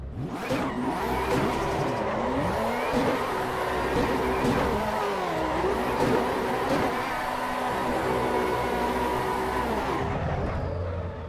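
A race car engine in Assetto Corsa Evo screams at high revs and repeatedly bounces off the rev limiter, a steady, loud, wavering drone that stutters and pulses throughout before cutting off near the end.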